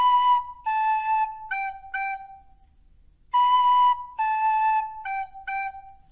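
The Deep Dish Pizza variation of Hot Cross Buns on a pure whistle-like melody instrument, two matching phrases of clear descending notes with a short pause between them, fairly loud and alone.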